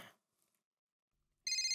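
Telephone ringing with a bright electronic trill that starts suddenly near the end after a near-silent pause, loud and close, preceded by a brief trailing sound.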